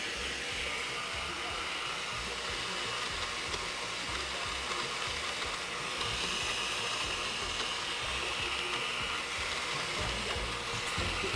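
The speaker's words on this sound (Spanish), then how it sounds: "Esto lo vamos a licuar. Y aquí le vamos a empezar a agregar el hielo." A blender crushes ice for a tamarind tequila sour, a loud, steady grinding roar that fills the whole clip up close, with the pitch shifting slightly as the ice breaks down.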